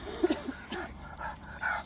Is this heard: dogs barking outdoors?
yes